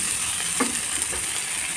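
Ginger and tomato sizzle in a hot pan while being stirred, a soft steady frying hiss with faint scraping, quiet and close.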